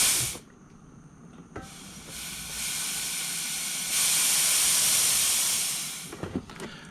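Refrigerant gas hisses loudly out of an AC line being purged while refrigerant is added, a broadband rush that builds in two steps, holds for several seconds, then tapers off, with a few clicks of valve handling around it.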